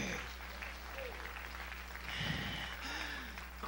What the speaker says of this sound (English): Come on and clap your hands.